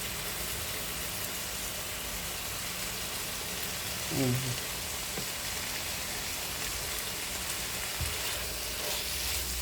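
Onions sizzling in a frying pan with pointed gourd, a steady soft hiss throughout, broken by a brief voice and a couple of light utensil knocks.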